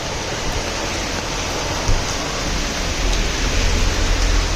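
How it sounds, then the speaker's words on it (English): Heavy rain pouring down in Goa during December, a dense, steady broadband roar that swells slightly louder toward the end, with no voices. "See how heavily it's raining."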